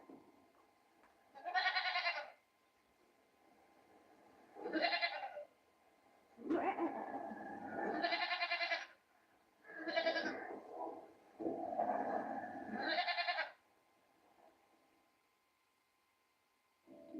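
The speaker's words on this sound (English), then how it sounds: "This is what a goat sounds like." A goat bleats in five or six drawn-out, wavering calls separated by short pauses, close and clear against a quiet background.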